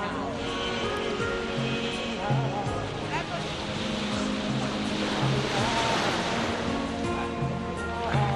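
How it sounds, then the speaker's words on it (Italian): Sea waves wash steadily onto the shore at a beach in Portici on a mid-August day, a continuous broad roar of surf with soft swells, heard close and fairly loud. "Che ne dici di questo mare?"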